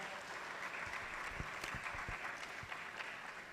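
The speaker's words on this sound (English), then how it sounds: "Please keep clapping," Audience at a law panel event applauds a speaker, a dense, even patter of many hands clapping throughout, moderately distant and without talk.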